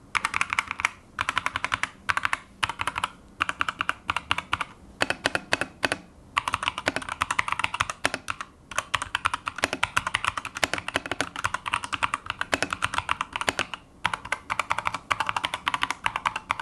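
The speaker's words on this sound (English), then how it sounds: "The sound of the keys is slightly more hollow compared to other mechanical keyboards I have tested." Rapid, continuous clacking of a 65-key wireless mechanical keyboard with a slightly hollow key sound, typed in quick bursts with brief pauses, close and fairly loud with no voices.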